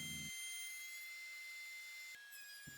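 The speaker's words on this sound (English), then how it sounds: "here I'm using a set of router bits that are designed to mill tongue and grooves in 3/4 inch material" A router fitted with tongue and groove bits mills 3/4 inch plywood for built-in cabinets, giving a steady high-pitched whine that holds throughout, with a brief drop and shift in pitch near the end and no talk.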